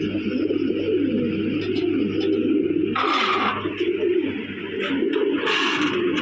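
Red Lahori pigeons coo in a continuous, close, rolling murmur, with bright rustles and flutters breaking in twice and no talking.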